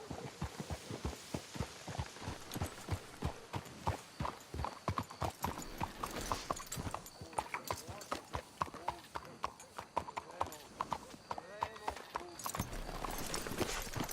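Horse hooves clip-clop in a steady rhythm on a trail in Red Dead Redemption 2, close and clear for most of the stretch, with voices talking over parts of it.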